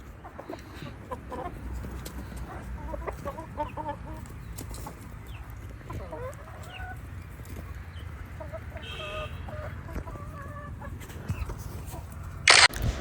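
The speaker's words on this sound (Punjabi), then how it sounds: "ਇਹ ਆਪਣੇ ਮੁਰਗੇ ਆ" Roosters cluck in scattered bursts across a noisy outdoor background at a mud house under construction, with a sharp loud knock near the end.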